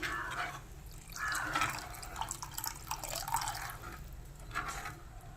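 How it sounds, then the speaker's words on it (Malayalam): Soaked tamarind water poured into a simmering Kerala tuna curry, a soft close trickle and dripping with gentle splashes, fairly quiet and without talk. "ആ പുളി വെള്ളം തന്നെയും ഒഴിക്കുക."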